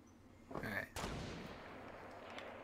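One or two sharp gunshots go off in the Fortnite battle royale video game, fairly faint and followed by a brief fading echo.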